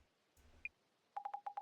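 Phone dialing tones in a video game: one short beep, then five quick, evenly spaced keypad tones, clean and clear against near silence.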